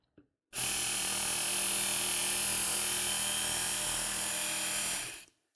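An electric knife sharpener whirs steadily for about five seconds as a fillet knife is pulled through its abrasive, a close, loud continuous grinding hum that starts and stops abruptly.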